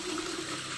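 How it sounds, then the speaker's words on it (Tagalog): Water pours steadily into a small bucket, a short, even gush of liquid without any talk, during preparation of a bird's bath. "Ayan, lagyan na natin ng tubig."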